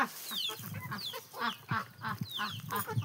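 Chickens are being fed at a home in Odisha, giving a steady run of squawks, clucks and honk-like calls close by.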